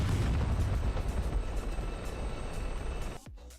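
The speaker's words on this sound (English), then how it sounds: "it is starting to shake, so I'm just gonna get a new chopper. I'll just let this one crash first." A Chinook helicopter in a video game drones with a loud, dense rotor and engine roar that holds steady, then abruptly drops away as it crashes, leaving near silence.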